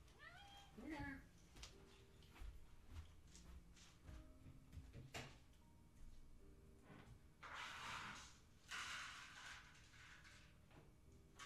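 A house cat meows a few times near the start, rising sweeps over a busy indoor backdrop of clatter, rustling and a person talking, with loud bursts later in the clip.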